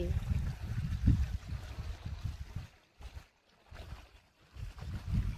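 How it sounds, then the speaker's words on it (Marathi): Water is poured onto vegetable plants in a village garden, making soft, uneven splashing and gurgling bursts that stop and start with short quiet gaps, fairly faint and close by. "हे इकडं मी भाजीला पाणी भरते"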